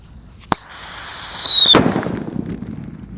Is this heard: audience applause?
no